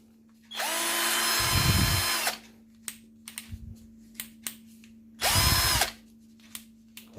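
Two bursts of a Bonchi cordless drill whirring at high speed while driving a screw, each lasting a second or two, with light clicks and handling noises between them.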